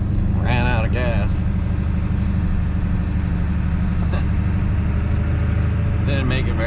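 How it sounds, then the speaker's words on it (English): A 1966 Ford Mustang drives along with a steady, loud engine drone that fills the whole stretch, while a person talks briefly over it near the start and again near the end. "Took the Mustang out on its maiden voyage."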